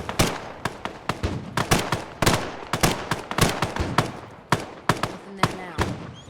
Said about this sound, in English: Who's this shooting at us?